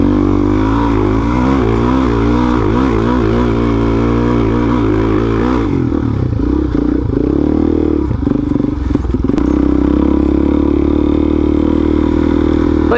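Suzuki DRZ400SM supermoto motorcycle riding on a dry hard-packed dirt trail, its single-cylinder engine droning loud and close with shifting revs, plus rough clattering bumps and wind rush midway.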